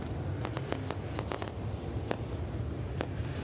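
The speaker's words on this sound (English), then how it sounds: "Fireworks already." Fireworks at a late model dirt track race: a series of sharp, loud bangs, several in quick succession and then a few more spaced out, over a steady background crowd and track rumble.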